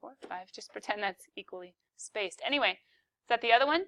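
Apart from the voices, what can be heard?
None of the usual background noises is heard.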